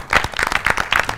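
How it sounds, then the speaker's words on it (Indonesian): A studio audience at an Indonesian national-knowledge quiz show claps briefly after contestants score points, a short burst of quick, close, uneven claps. "Tepuk tangan dulu."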